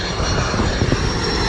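Iberia airliner touching down on a runway at an international airport, a loud steady engine roar and broadband rumble sustained throughout, with no speech.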